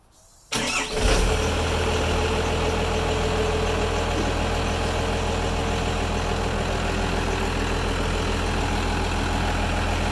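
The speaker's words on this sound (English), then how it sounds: "let's go ahead and start up the truck" A truck engine cranks briefly and catches after a quiet moment, then settles into a steady, loud idle that continues alone.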